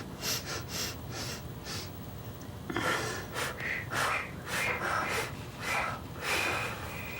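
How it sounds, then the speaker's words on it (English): Rapid breathing exercise in a seniors' yoga class, a series of quick, forceful sniffing inhales through the nose followed by short puffed exhales through the mouth, close and rhythmic with no talking. "7 times through our nose and then 7 times out our mouth."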